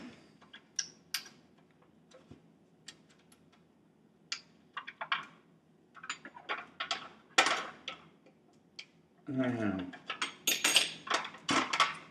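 Plastic yogurt container and spoon handled close up, with scattered light clicks, taps and crinkles followed by a denser burst of rustling and scraping near the end.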